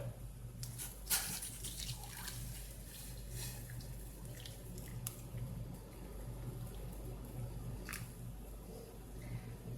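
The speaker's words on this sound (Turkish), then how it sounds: "Ve üzerine sıcak su döküyorum." Faint hot water pouring and splashing into a cooking pot for fish soup, with a few drips, soft and steady over a low background hum.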